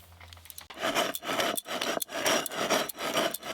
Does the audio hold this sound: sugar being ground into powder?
yes